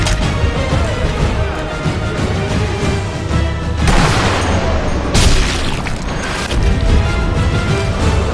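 Tank explosions and gunfire in the video game Sniper Elite V2 form a dense, rumbling barrage, with heavy booms and crashing impacts surging several times over a continuous wall of combat noise.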